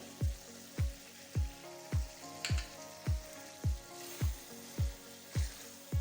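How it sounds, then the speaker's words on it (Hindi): Potatoes with garam masala and cumin roast in a pan, a soft steady sizzle punctuated by a regular thump of stirring, about ten evenly spaced strokes. "और तकरीबन 2 से 3 मिनट तक हम इसकी बुनाई और करेंगे।"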